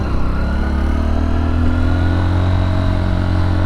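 A 2023 Honda XR150L, a small 150cc motorcycle, runs steadily under load while being ridden, its engine drone loud, close and continuous throughout with no voices.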